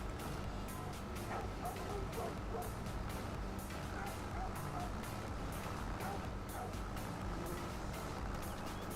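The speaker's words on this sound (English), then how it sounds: "dog's not liking that we're driving through their owner's property" A dog barking in Farming Simulator 25 as a vehicle drives across a farm property: repeated short barks come through over a constant loud engine rumble with beeping.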